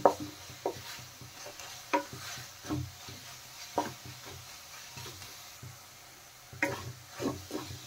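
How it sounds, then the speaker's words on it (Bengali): Coconut filling with cracked cardamom and milk powder is stirred in a pan, giving quiet intermittent scrapes and soft knocks over a faint sizzle, with no voices. "দিয়ে ভালো করে নেড়ে চেড়ে পুরটা তৈরি করে নেব"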